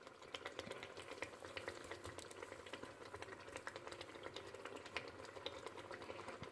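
Fried egusi soup with spinach being stirred in a pot, a soft, steady bubbling sizzle with scraping and stirring clicks throughout, fairly quiet and close with no talking.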